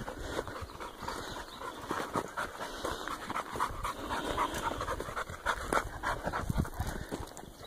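A dog pants heavily and rapidly outdoors at high elevation near an old mine, with close, rhythmic breaths continuing throughout alongside faint shuffling and wind.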